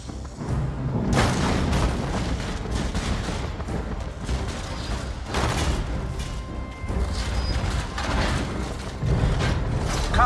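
Heavy gunfire and booming explosions from the Transformers: Revenge of the Fallen video game, Autobot campaign, roll on continuously with dense bursts and repeated loud blasts throughout, no voices.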